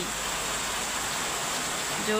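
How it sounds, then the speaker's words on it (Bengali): Heavy rain falls on a dark, cloudy day in Bangladesh, a steady dense hiss with no break and a slight swell near the end. "জোরে বৃষ্টি পড়া"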